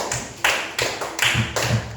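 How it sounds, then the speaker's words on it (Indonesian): A classroom of students claps for a student group after a traditional dance presentation during a teaching practice lesson, heard as short separate bursts of clapping that start and stop in a rough rhythm, fairly close and not very loud. "Tepuk tangan buat kelompoknya Mandi."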